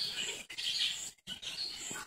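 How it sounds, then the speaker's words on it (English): A large flock of blackbirds in a backyard makes a dense, continuous chatter of chirps and squeaks that stays moderately faint, broken by two brief gaps. "easily 500 birds in our backyard right now"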